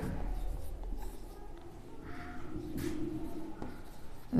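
Soft scratching strokes of writing on a board during a maths lecture, a few faint, brief strokes heard against low room noise.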